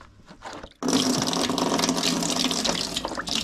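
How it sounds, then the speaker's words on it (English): Meltwater gushes out of a Dometic Patrol 35 ice box in a sudden steady splashing stream that starts after a few faint handling noises and keeps running loud and close. "Might let the water out of it today."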